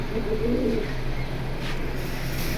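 Domestic pigeons in a fancier's loft give a couple of soft, low coos near the start, over a steady background hum, with no talking.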